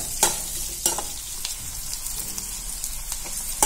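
Onions sauté in a pan with a steady sizzling crackle, broken by a few sharp scraping stirs near the start and end.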